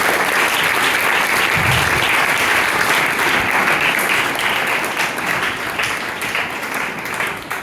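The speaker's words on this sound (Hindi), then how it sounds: "ऐसे हाथ फ्री हो और अपने लिए जोरदार तालियां बजाएं।" A seminar audience at a Christian session on sacrifice claps loudly and continuously, a dense wash of many hands that thins slightly toward the end.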